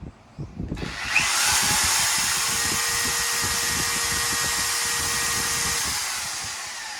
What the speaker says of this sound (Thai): พัดลมเบอร์สามกับสว่านใช้พร้อมกันได้นะครับ